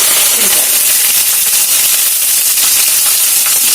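Curry leaves sizzling in hot oil for upma, a loud, steady hiss and crackle that runs unbroken and close.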